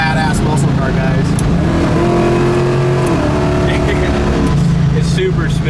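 A 1971 Camaro Z28 muscle car engine revs under acceleration, its loud, close exhaust note climbing and shifting pitch over several seconds and then settling into a steady drone.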